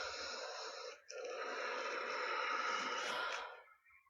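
A long, deep, wheezy breath during a yoga session, with a brief catch early on before a sustained exhale that trails off, close and intimate.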